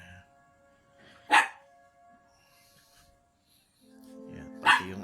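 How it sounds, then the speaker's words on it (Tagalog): A dog gives two short, sharp barks a few seconds apart, fairly close and loud against an otherwise quiet background with faint tones between them. "Yan, pati yung aso nakikisama. Na-amaze yung aso."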